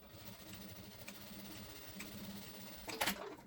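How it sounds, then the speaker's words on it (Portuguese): A sewing machine stitches back and forth about three times on fabric to lock a seam near an elastic casing, a quiet steady mechanical whir with a brief sharper clatter near the end. "eu gosto de passar uma costurinha já prendendo ele aqui, dando retrocesso umas 3 vezes para ficar bem firme"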